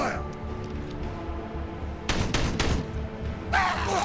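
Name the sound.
gunfire in the video game Warhammer 40,000: Regicide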